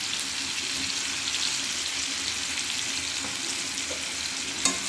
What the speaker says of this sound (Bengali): একটু নাড়াচাড়া দিয়ে নেবে।